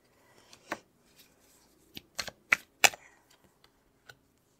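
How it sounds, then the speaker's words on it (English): Tarot cards are shuffled and drawn from a deck, giving a handful of quiet, crisp snaps and riffles spaced unevenly over a few seconds in a near-silent room. "so I'm going to pull some cards"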